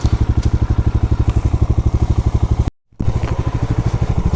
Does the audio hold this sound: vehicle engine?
yes